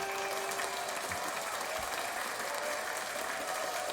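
A canned applause sound effect plays on a talk show, a steady wash of hand clapping at even loudness that continues alone for several seconds.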